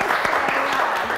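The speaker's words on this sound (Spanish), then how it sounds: "Jiménez se merece un aplauso a todos." A class applauding a student named Jiménez, a short close burst of clapping with a few distinct hand claps audible within it.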